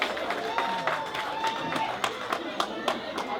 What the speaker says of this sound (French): Applaudissez très fort pour ces femmes-là.